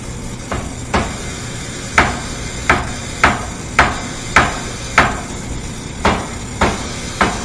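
Whirlpool gas dryer with a misaligned gas valve, vibrating as something bounces back and forth, giving a steady series of sharp knocks roughly every half second over a low running hum, close and clear.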